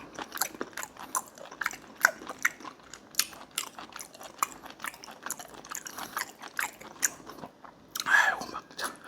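Crunchy bites and chewing of a fried fish cutlet with kimchi and tartar sauce, a close series of sharp crunches and wet mastication sounds, with a louder burst near the end.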